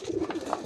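Pigeons in a cage give a brief, soft cooing, a few low throaty murmurs close by over a little background noise.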